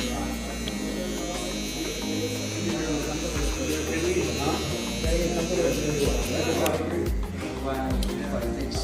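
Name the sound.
electric hair clipper and trimmer buzzing during haircut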